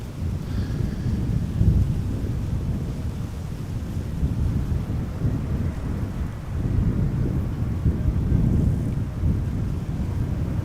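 Heavy wind buffeting a microphone outdoors at Amsterdam Schiphol Airport, a loud, continuous low roar that surges and dips in gusts throughout, without talk.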